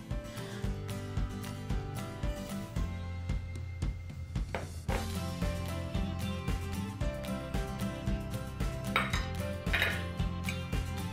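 A spoon or utensil clinks and scrapes steadily against a mixing bowl as crumble topping is stirred with butter, a busy, close rattle of kitchenware with no talking.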